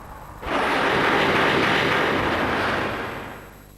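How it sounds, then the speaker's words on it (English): A brand new Piper Saratoga light aircraft roars past nearby, its broad engine noise rising suddenly and holding steady for a few seconds before starting to fade. "This is a brand new Saratoga that I flew over at the Piper factory in Florida."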